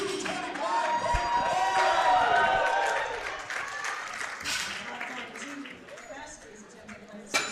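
Powerlifting meet audience cheering and clapping for a national record attempt, loud and sustained for a few seconds before thinning into scattered whoops and applause, with an announcer speaking over it.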